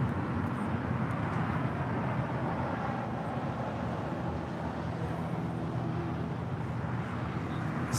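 A Delta Airlines Boeing 757-300 landing at LAX, heard as a steady low jet rumble and broad whoosh, fairly near and unchanging in loudness, with no voices.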